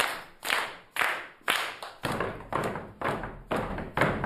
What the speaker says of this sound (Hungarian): Tapsoljuk azt a számot, amit most kiraktál